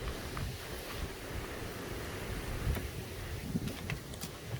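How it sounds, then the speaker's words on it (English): Wind blowing outdoors, a continuous rough rumbling gust noise buffeting the microphone at steady moderate loudness, with no talk. "There was just some wind blowing around there, blowing some stuff around."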